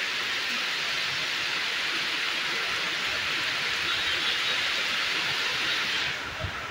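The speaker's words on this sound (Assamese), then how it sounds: "বৰষুণ পৰি আছে কাৰণে অকণমান ৰখি দিছোঁ" Steady rain falls continuously on a workshop or storage shed during cleaning for Vishwakarma Puja, a dense hiss holding at an even level with no voices, easing slightly near the end.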